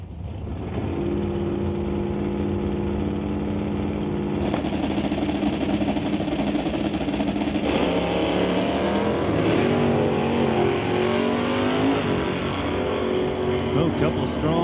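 Drag race cars, including a factory stock Camaro, launch at an NHRA open series event with loud, sustained engine roar that builds and shifts in pitch while an announcer talks over it.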